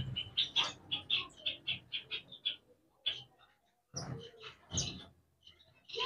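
Star finches and zebra finches in breeding cages give quick, high, repeated chirps in a rhythmic run, close and clear, followed by a short pause and more scattered calls.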